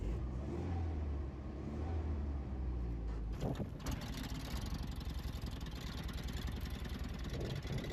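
A Pinzgauer military vehicle at the front idles low and rough, then about a third of the way through a louder engine note rises with a sharp knock and settles into a steady, busy running rumble close by.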